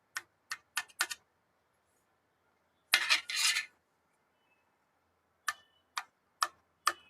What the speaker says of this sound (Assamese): এনেকে মই কাটি লৈছো পনীৰখিনি